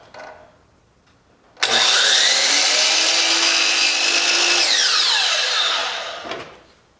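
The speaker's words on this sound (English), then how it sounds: "the way to set the miter saw on the proper angle. So let's go ahead and cut that." A miter saw cuts through cove molding in one loud, sustained whine of about five seconds, starting abruptly and winding down at the end, with no talking.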